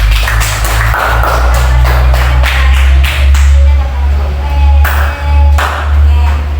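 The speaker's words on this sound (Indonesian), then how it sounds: "tepuk tangan untuk temannya" Schoolchildren in an Indonesian-language classroom clapping their hands for a classmate, a quick run of sharp claps over a steady low hum, with a few voices mixed in.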